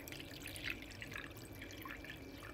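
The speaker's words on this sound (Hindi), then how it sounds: "इसके अंदर पानी डाल दें।" Water poured into a bowl of tamarind for chutney, a soft steady splashing and trickling that runs the whole time at close range, with no talking.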